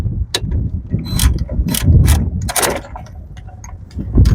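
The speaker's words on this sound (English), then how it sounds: "I'm going to use my automatic ratchet wrench." An automatic ratchet wrench spins out 15mm brake caliper bolts on a 2000-2005 Chevy Impala or Monte Carlo, giving close, loud bursts of rapid clicking and whirring in irregular spurts.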